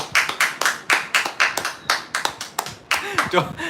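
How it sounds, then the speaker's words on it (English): A few people clap their hands near the microphone at a livestream hangout, an uneven run of sharp claps lasting a few seconds, with a voice talking over them near the end. "Applaud with me, guys, so I don't feel alone."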